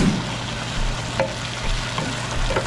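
Food sautés in a pan, a steady low sizzle with occasional light stirring clicks from a spatula, close and continuous without voices.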